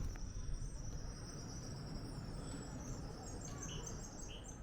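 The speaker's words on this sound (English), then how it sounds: "Isn't it just relaxing just to hear those bird sounds?" Chirps and songs of birds ring out faintly over a steady outdoor hum in a park at the Leasowes, Black Country, with insect-like trilling in the background and no one speaking.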